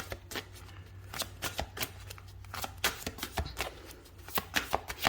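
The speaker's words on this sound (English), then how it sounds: "I'm going to pull some shamanic healing oracle cards to close out your reading." Shamanic healing oracle cards being shuffled by hand, a run of soft riffling slaps and flicks in an irregular rhythm, close and fairly quiet, with a low steady hum underneath and no talking.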